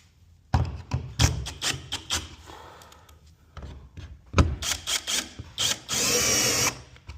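A power drill drives screws while a curtain rod is being installed, sounding in several short whirring bursts separated by clunks and handling noise, ending in a longer sustained run.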